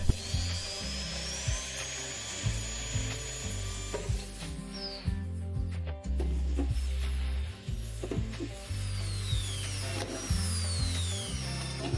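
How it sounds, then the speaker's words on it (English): A power drill whines in repeated short bursts, its pitch rising and falling as 3 mm and 8 mm bits bite into a leaky metal pot, with brief pauses between runs. "First we drill with a 3 mm bit and then we enlarge the holes to 8 mm."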